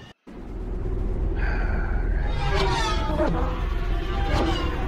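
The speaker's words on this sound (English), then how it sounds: "I love the sounds of the drones." Drones fly in the Ace Combat 7 video game, giving off whining, wavering engine tones that rise and sweep over a constant low rumble, loud and continuous for several seconds.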